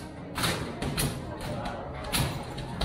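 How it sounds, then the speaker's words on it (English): A basketball thumps on a court in several irregular bounces and shots, fairly close, over a steady background murmur. "That is Lin Pa attempting his first shots."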